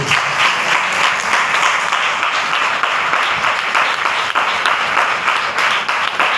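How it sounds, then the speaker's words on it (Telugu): A church congregation claps loudly during a Sunday service, a dense, sustained roar of applause that fills the whole stretch with little variation. "ఎవరికైనా అర్థమైతే ఈ సత్యం గట్టిగా చప్పట్లు కొట్టి"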